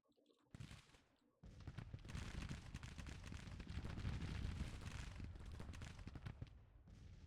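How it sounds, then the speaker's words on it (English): Cannon fire rumbles through a Civil War battle in the Grand Tactician strategy game, with 1861 Confederate forces engaged. A dense, continuous roar of booming artillery and crackling volleys carries on for several seconds at moderate distance. "17 casualties with all that cannon fire"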